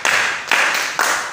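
Three sharp rounds of clapping in a children's church service, each burst starting with a crisp hit and trailing off, spaced about half a second apart, close and fairly loud with no talk.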